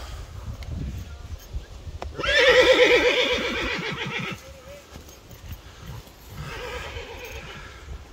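One loud, drawn-out horse neigh rises and shakes before trailing off, followed later by a softer, shorter whinny over low background noise.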